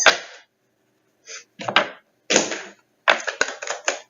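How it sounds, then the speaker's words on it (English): Tarot cards are shuffled in several quick, crisp riffling bursts separated by short silences, close up and fairly loud. "There's some shuffling here."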